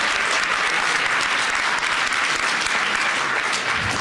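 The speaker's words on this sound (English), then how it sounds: "Can we get a round of applause for them?" Audience applauding a panel at an evening plenary session, a dense, steady wash of many hands clapping at close range, sustained without letup and with no speech over it.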